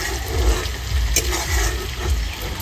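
Shrimp coated in salt and turmeric fry in hot oil in a village kitchen, giving a steady low sizzle and bubbling that swells and eases over a few seconds, with no talking.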